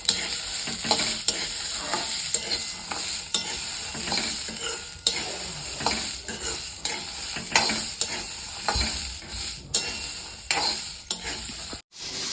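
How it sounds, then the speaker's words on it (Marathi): Fresh pigeon pea seeds and green chillies roasting in a pan: a steady, close sizzle with frequent scraping stirs from a spatula, continuous and fairly loud, with a brief gap near the end. "ह्याच्यातच आता ही तुरीचे बी पण ह्यात टाकून घेतले तर हे पण आपल्याला चांगलं भाजून घ्यायचं"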